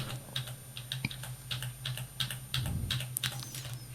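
Computer keyboard keys clicking in short, irregular taps while working in CorelDRAW, quiet and close, with a low steady hum behind them.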